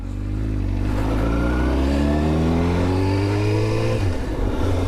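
A Yamaha R7 motorcycle engine revs steadily, its pitch climbing as it pulls away with the clutch slipping, loud and close, then dropping briefly near the end.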